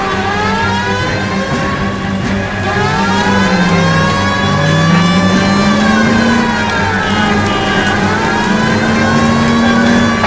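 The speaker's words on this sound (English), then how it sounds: "That's Kelso's car" Car engine revving steadily during a police pursuit in the L.A. Noire video game, loud and continuous with a wailing siren layered on top throughout.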